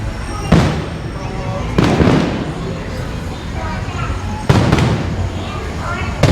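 Fireworks burst over Disneyland at night, with three or four deep booming explosions spaced a second or two apart and crackling decay between them, heard from a distance over constant crowd noise.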